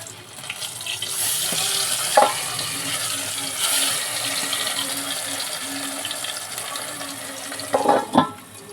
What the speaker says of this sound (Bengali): মাছটা ভাজা বসিয়েছি।